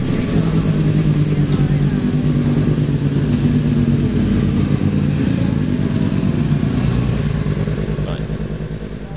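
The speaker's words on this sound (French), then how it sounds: "la R1, dont c'était la dernière apparition, profite de la disponibilité de son moteur crossplane qui pétarade joyeusement à la décélération" A 2011 Yamaha R1 superbike with a crossplane engine runs loud and steady on the Portimao track, its exhaust crackling and popping as it decelerates, alone with no talk over it.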